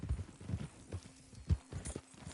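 A horse clip-clops at a walk, with distinct hoofbeats in an irregular rhythm, close by and fairly clear against a quiet background.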